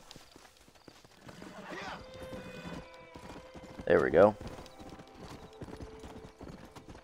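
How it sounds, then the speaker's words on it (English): A horse's hooves clip-clop steadily at an easy pace in the Western game Red Dead Redemption 2, with a louder burst like a whinny partway through and someone speaking briefly over it. "let's just get on my horse and get back to where we were going"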